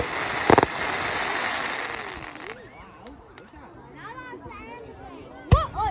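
Fireworks burst and crackle at a Guy Fawkes bonfire night display in Newtonhill, Scotland, with sharp loud bangs near the start and end and whistling rockets between, as spectators chatter excitedly throughout.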